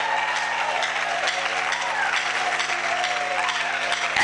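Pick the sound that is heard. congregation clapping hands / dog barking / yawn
congregation clapping hands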